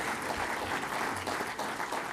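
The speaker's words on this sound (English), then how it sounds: "Let's give a big round of applause." Audience applause at a conference gathering, a steady dense wash of clapping sustained for about two seconds without a break, moderately loud and filling the room.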